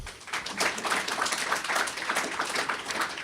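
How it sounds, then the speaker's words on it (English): Audience applause at the i2 Passport award ceremony, a rhythmic, moderately loud bed of many hands clapping that pulses slightly and carries on for the full stretch with no talking. "So really a round of applause for all of those"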